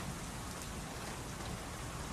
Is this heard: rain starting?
yes